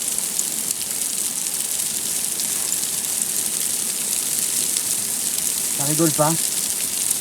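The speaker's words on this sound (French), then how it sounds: "Orage de grêle, on est à l'abri dans une réserve d'eau apparemment." Hail pours down steadily and loudly on a water reservoir used as shelter during a Corsican mountain ultra-trail storm, a dense, unbroken hiss throughout, with a brief voice speaking near the end.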